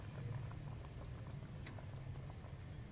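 Potato and meat curry broth simmers on a low flame, with a faint, steady bubbling and soft popping patter close by and no talk.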